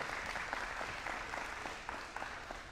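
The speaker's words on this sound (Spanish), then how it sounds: "Denle un aplauso al Señor." A church congregation at a Spanish-language service claps together in steady, sustained applause that fills the room and fades slightly toward the end.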